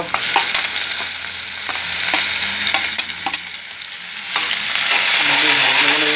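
Onion and ginger garlic paste frying in oil for egg curry, a loud hissing sizzle with irregular spatula taps and scrapes, the sizzle surging louder near the end.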